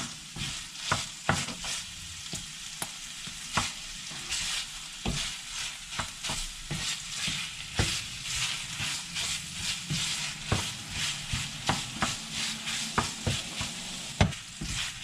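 Boneless salmon fries in a pan for tortillas, a soft continuous sizzle broken by repeated scraping and stirring clicks from a utensil, fairly quiet and close, with no talk.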